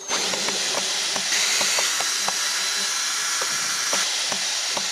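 A power tool whirs steadily while unscrewing a native bee hive box fixed against a wall, with a hissing, grinding drone broken by repeated sharp clicks and taps close by.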